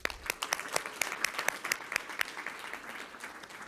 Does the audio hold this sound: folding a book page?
no